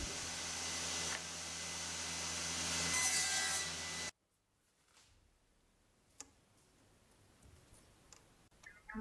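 A saw cuts through plywood for a drawer in a home workshop, a loud steady rasping stroke lasting about four seconds that stops abruptly and leaves near silence with faint scattered ticks.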